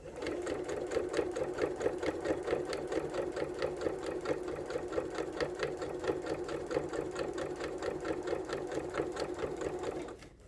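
A sewing machine stitches through a rag quilt, running steadily for about ten seconds as a close, continuous, rapid needle rhythm that halts abruptly at the end, with no talking.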